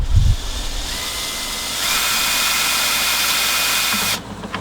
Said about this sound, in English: So I'm just going to go around and drill all of these out really quickly.